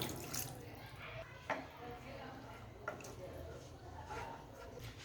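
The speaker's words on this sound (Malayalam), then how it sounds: "ഇപ്പോൾ ഇതിനകത്തോട്ട് 1 കപ്പ് വെള്ളം ഒഴിക്കാം." A cup of water is poured into a simmering paneer butter masala gravy in a pan, a faint, continuous splashing and bubbling with a couple of soft knocks, heard close and alone.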